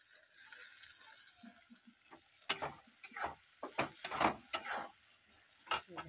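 Banana flower and fried potatoes sautéed in a pan, quiet at first, then several close scraping and clattering stirring strokes over a faint sizzle, with no talking.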